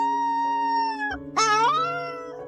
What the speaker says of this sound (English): It let out a sorrowful howl toward the sky.